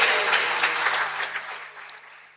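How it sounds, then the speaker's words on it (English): Audience applause in a legislative chamber for the Speaker of the Mpumalanga Legislature at a policy and budget speech session, a steady wash of many hands clapping that gradually fades out. "I think we can all clap hands for the Speaker"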